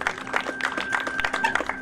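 Audience applause at a local community event in Chrzanów, Poland: a dense run of handclaps, moderately close and steady, with a faint constant tone running underneath.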